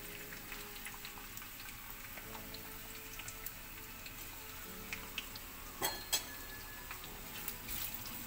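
Sliced onions for biriyani fry in oil with a soft, steady sizzle, faint and close, punctuated by a few light taps and stirring clinks from the pan.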